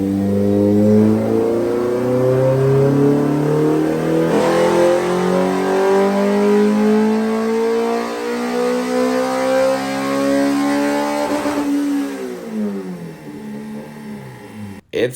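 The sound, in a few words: Honda B16A engine revving on dyno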